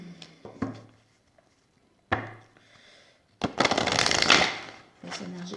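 Tarot cards shuffled ahead of a reading, with short riffling bursts followed by a longer, louder stretch of dense shuffling and a final brief flurry, with a voice speaking between them.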